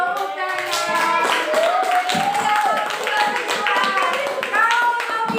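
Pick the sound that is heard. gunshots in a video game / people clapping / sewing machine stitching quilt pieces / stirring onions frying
people clapping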